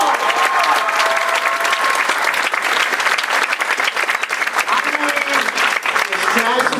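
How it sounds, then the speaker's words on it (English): Enthusiastic audience applause at a community theater volunteer gala awards night, continuous close clapping with scattered cheers and whistles throughout the clip. "Give a round of applause."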